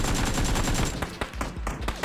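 Gunfire in the battle royale game PUBG: a rapid automatic burst of close shots, then several separate loud cracks at uneven intervals.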